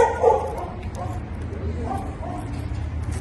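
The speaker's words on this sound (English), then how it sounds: "Have this very excitable dog that's coming straight out of the gate at their most excited because they're going to go on a walk." Excitable dog yipping and whimpering in short bursts before a walk at a training ranch, close by, mixed with a low rumbling background and someone speaking.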